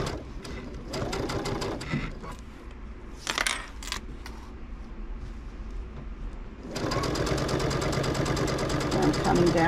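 Long-arm quilting machine stitching a baby quilt, its rapid needle chatter running steadily, pausing briefly amid small clicks and handling noises, then resuming loud and continuous.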